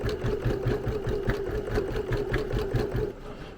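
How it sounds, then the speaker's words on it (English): Rapid, even mechanical stitching of a PFAFF Creative 1.5 sewing and embroidery machine running on its own, a quick rhythmic chatter with a low motor hum, close by and fairly quiet. "Now the machine is just going on its own."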